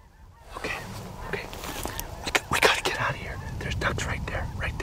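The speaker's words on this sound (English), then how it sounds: "Snow geese are coming, that's good." Snow geese honking in flight over Alberta pothole country during a hunt, a rising chorus of overlapping calls that swells in the middle, with hushed human voices murmuring beneath the flock.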